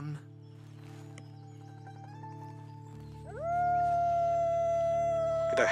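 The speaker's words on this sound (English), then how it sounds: "They're howling." Canine animals howl in a Red Dead Redemption 2 game scene, a sustained rising wail swelling loudly near the end over a steady game ambience hum.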